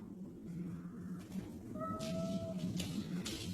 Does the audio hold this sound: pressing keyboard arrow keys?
no